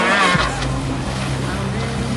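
A freestyle jet ski engine revs hard at full throttle during a masters competition run, a loud, steady buzzing drone with shifting pitch, heard near over the splash of water and crowd noise.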